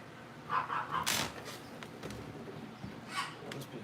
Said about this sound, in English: I got a dog outside.